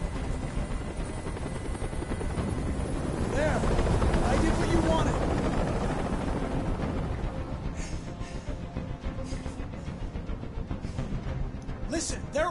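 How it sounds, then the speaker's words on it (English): A helicopter hovers overhead during a rooftop hostage standoff in the video game Detroit: Become Human, its rotor roar swelling to a loud peak before easing back into a steady drone. "I can't stand that noise anymore! Tell that helicopter to get out of here!"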